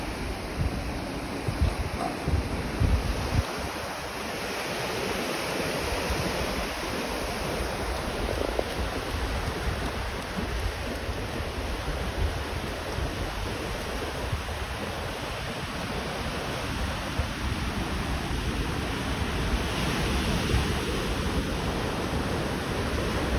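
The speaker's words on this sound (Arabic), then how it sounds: "وبعد ما كابتن بهاء شالني ونزلني الميه" Steady ocean surf and water wash in the Atlantic, close and continuous for the whole stretch, with wind buffeting the microphone and no voices.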